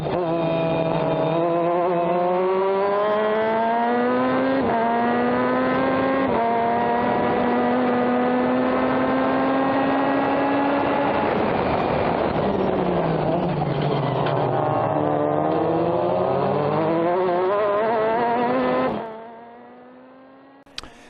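A Pro Formula Mazda race car at Sonoma Raceway howls through a chicane, its loud engine rising and falling with downshifts and reacceleration before cutting off abruptly near the end; no talk.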